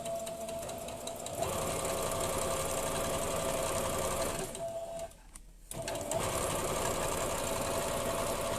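A sewing machine stitches patchwork pieces for quilting in a steady, continuous mechanical whir, close and loud, briefly pausing near the end before running again.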